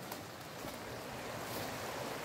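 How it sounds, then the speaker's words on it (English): River water flowing outdoors, a steady broadband rushing wash that holds even throughout, with some wind noise against the microphone and no voices. "this is the river. You can see how the water is just flowing."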